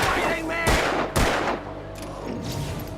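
Enemy gunfire in the video game Alan Wake: a few sharp, loud shots crack out in quick succession over a busy, noisy game backdrop.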